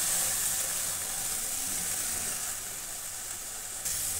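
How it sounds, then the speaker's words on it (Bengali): Spice paste sautéing in a pan after water is added, for a fish and cauliflower curry, gives a loud, steady hissing sizzle throughout with a slight drop in intensity near the end. "দিয়ে দিলাম জল, আমি আবারও সুন্দর করে মশলাটা কষিয়ে নেব"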